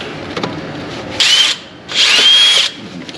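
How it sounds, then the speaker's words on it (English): A power drill bores out a bolt on a Chevy Silverado 2500 HD truck brake in two close, loud whining bursts, a short one and then a longer one, separated by a brief pause. "Keep on drilling a bit here"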